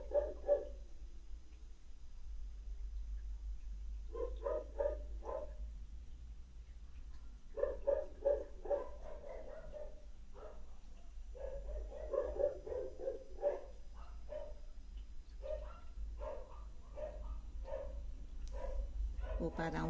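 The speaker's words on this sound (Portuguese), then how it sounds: "Os cachorros da esquerda também estão latindo." Several dogs barking around a house in Trindade, in short repeated bursts from more than one direction, fairly close but not loud, over a steady low hum.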